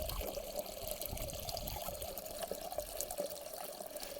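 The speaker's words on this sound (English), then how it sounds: "You can maybe see it filling up inside." Water fills a leaking garden bed through a valve-adjusted pipe, giving a continuous close trickling and pouring with a steady gurgle and no break.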